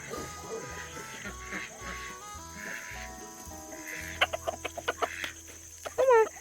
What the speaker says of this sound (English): we're gonna give the duckies and chickies some apples, some of the end parts